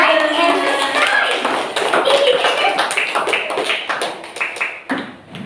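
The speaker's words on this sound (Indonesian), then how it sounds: "Oke, tepuk tangan lagi." Schoolchildren clap their hands in a classroom, a quick run of bright, overlapping claps that slows toward the end, with young voices mixed in.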